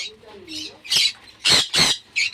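Pet birds let out several loud, harsh squawks in quick bursts, close to the microphone, with a voice speaking softly between the calls.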